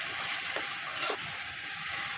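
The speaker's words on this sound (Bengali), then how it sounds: "এবার এটাকে আমি একটু নাড়াচাড়া করে নেব।" Paneer dal with chopped green chillies being stirred in a frying pan, a steady close sizzle and frying hiss with faint scraping strokes of the spoon, and no voices.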